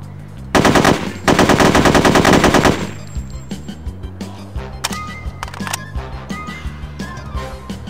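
Weapons fire in No One Lives Forever 2: two loud, sustained bursts of rapid automatic fire come first, then scattered individual shots and metallic clicks, all close and alone.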